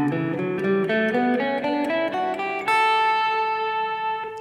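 An electric or acoustic guitar plays a scale from A up to A in a box pattern, about a dozen evenly spaced single notes climbing steadily and ending on a ringing sustained top note, close and clear with no talking.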